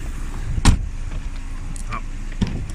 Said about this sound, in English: Let's get the door shut.